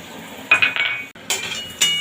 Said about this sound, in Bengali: এখানে নিয়েছি দু চামচ টক দই একটু চিনি লবণ হলুদ আর লঙ্কার গুঁড়ো এগুলো সব একসাথে মিহি একটা পেস্ট করে নিয়ে আসবো